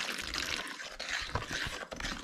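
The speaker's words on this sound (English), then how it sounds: "I'm gonna put some water in there" Water pouring and trickling into a bowl of homemade slime mixture, a steady splashing gush with brief dribbles, close and fairly loud, with no one talking.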